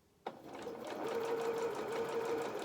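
Sewing machine stitching fabric pieces for a doll's fox head, starting abruptly and running fast and steady with a continuous mechanical whir and rapid needle rhythm, close and fairly loud.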